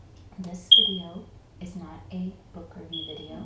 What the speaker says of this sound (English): if you hear any noise in the background, it's just my fire alarm